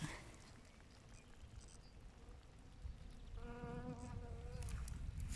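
A bee buzzes near dandelion flowers, a steady insect drone over rustling outdoor background noise, growing slightly louder with a clear whining tone partway through.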